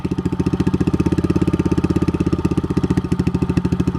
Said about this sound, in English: The idle just kind of goes like up and down.